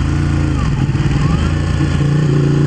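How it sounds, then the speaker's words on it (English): A Ducati motorcycle engine drones steadily while riding hill roads, a loud continuous mid-pitched hum with slight pitch shifts, close to the microphone and without talk. "I'm on my Ducati again because we're gonna tear up some hills here"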